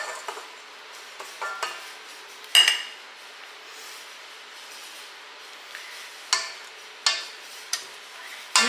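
Granulated sugar and softened unsalted butter being creamed in a bowl, with scattered clinks and scrapes of a utensil or mixer against the dish, a few sharp knocks standing out from a quiet background.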